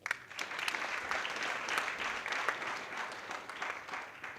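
An audience at a live startup product showcase claps steadily in a dense, even round of applause that holds for several seconds without letting up.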